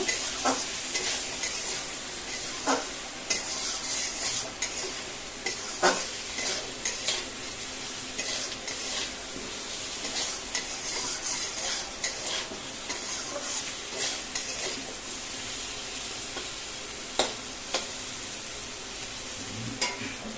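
Potatoes and onions frying in a pan while being stirred slowly, a continuous sizzle broken by regular scraping and clicking of the spoon against the pan, close and fairly loud, with no talk.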